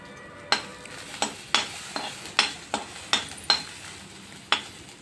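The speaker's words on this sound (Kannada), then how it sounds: "ಸಣ್ಣದಾಗಿ ಕೊಚ್ಚಿರುವ ಈರುಳ್ಳಿ ಹಾಕೋಬೇಕು. ಇದನ್ನು ಸಣ್ಣದಾಗಿ ಫ್ರೈ ಮಾಡ್ಕೋಬೇಕು." Finely chopped onion and crushed garlic fry in a pan while a spoon stirs them, sending out a soft steady sizzle punctuated by about nine sharp scraping strokes at an uneven rhythm, close and without talk.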